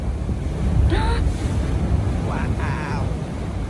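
Ocean surf at Lands End in San Francisco rushes and washes continuously beneath heavy wind buffeting on the microphone, while a few voices speak briefly over the roar.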